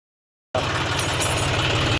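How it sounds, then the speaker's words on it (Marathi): A farm tractor's engine catches after a short silence and settles into a steady, close, loud idle with an even low throb that runs unbroken to the end. "ट्रॅक्टरला चावी मारली"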